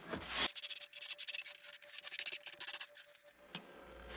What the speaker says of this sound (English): Now we're going to scrub it one more time.